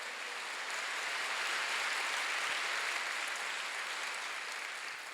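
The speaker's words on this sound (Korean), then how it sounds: "박수" Church congregation applauding at a Wednesday worship service, a dense, steady wash of clapping that holds evenly throughout with no voices standing out.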